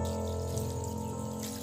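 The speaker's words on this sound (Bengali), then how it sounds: "দেখুন আবার জল দিচ্ছি" Water poured from a tap over chana dal in a bowl during washing, a steady continuous running-water rush at close range, with no talk.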